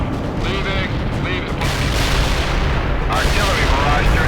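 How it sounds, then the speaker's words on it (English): Artillery barrage in the World in Conflict video game, a dense, continuous rumble of distant booms and shell bursts rolling steadily throughout, loud and unbroken, with a radio-style voice speaking over part of it. "Artillery barrage during the target area is done."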